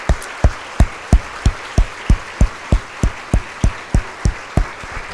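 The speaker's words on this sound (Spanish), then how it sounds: "Le damos un aplauso a Dios." A church congregation applauds in a steady, evenly spaced rhythm of sharp claps that repeat like a beat, carrying on without talk.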